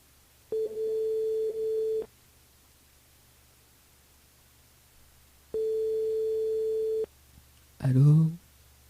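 Telephone ringing tone on a radio morning show calling a listener's mobile, two long steady rings with a pause between, followed by a brief burst of a voice answering.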